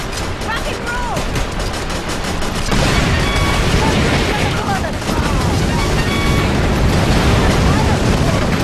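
Missiles and gunfire crackle through a Battalion Wars battle, with dense, continuous booms and bursts of shots layered under game effects, loud and without pause.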